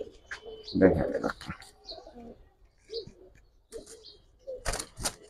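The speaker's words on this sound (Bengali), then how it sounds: "পুরান জাতের একটা লাল খাকি নর কবুতর, ট্যাগ লাগানো আছে, ক্লাবের ট্যাগ" Pigeons, among them an old-breed Lal Khaki male wearing a club tag, coo in scattered short bursts between bouts of nearby talk, with sharp chirps and clicks breaking in near the end.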